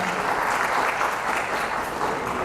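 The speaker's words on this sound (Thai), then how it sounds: "ขอเสียงปรบมือท่านด้วยนะครับ" Audience applause at a Royal Thai Navy press conference, a dense, steady round of clapping from a room full of people that holds evenly for its whole length with no voices over it.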